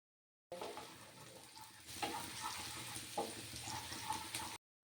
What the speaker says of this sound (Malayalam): ഇനി അതിലേക്ക് ചെറിയ ഉള്ളി ഇട്ട് കൊടുക്കുക